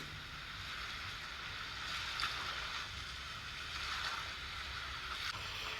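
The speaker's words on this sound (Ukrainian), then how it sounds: "Це морські хвилі." Steady wash of water with broad hissing noise and gentle swells rising and falling, like sea waves rolling in continuously, no voices.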